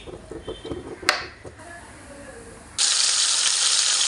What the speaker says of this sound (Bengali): এরপর মাছটা ভেজে নিচ্ছি।